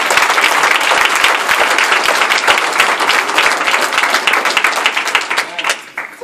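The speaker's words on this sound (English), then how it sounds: "Let's give God a hand clap." A church congregation breaks into sustained, loud applause at an Easter Sunday service, a dense wash of many hands clapping together that carries on steadily and thins out near the end.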